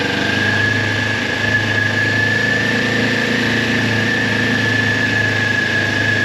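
A motorcycle engine runs in first gear as gas is added in a parking lot, producing a loud, steady mid-pitched drone with a constant whine and no talking over it.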